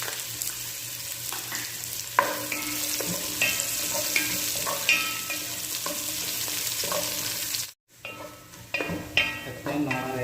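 Onions tossed into hot oil after golden-browned garlic for beef adobo, sizzling loudly and steadily with repeated stirring scrapes; the sound briefly drops out and resumes with sharper clatter.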